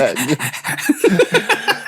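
A man imitates a dog panting with quick, rhythmic breathy huffs, loud and close, about eight pants in under two seconds.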